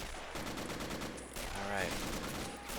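An MG42 machine gun fires in the WWII strategy game Men of War: Assault Squad 2, a steady loud stream of shots layered with battlefield gunfire, with a brief tonal cry rising midway.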